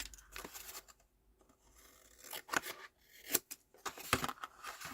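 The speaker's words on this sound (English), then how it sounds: "Then when you cut these corners off, make sure you leave a little bit." Scissors snip and rub through paper while corners are trimmed for a handmade folio album, giving quiet, irregular cuts and scratchy rustles up close, with no talk.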